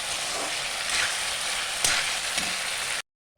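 Chopped tomatoes fry in a pan with a loud, steady sizzle and crackle and a few stirring scrapes, then the sound cuts off abruptly.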